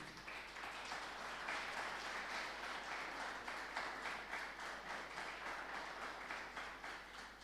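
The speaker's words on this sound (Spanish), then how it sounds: "Denle un fuerte aplauso al Señor Jesucristo." A church congregation applauds, a dense, steady wash of many hands clapping at moderate distance, sustained throughout without voices standing out.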